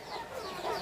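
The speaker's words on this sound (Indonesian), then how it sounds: "memberikan makan kepada ayam dulu. Ternyata udah ditunggu sama ayam-ayamnya tuh" Backyard chickens waiting at feeding time give a brief, soft burst of low clucking, close by and alone.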